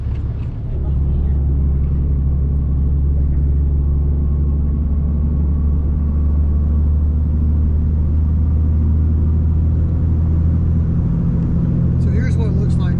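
A 5th Gen Ram pickup cruising down the road, its steady low engine drone and road rumble holding evenly throughout, with a brief lighter clatter near the end.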